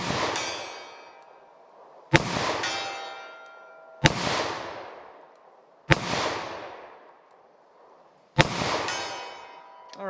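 A 9mm snub nose revolver fires at a target outdoors, five loud, sharp gunshots spaced about two seconds apart, each followed by a ringing, slowly fading echo.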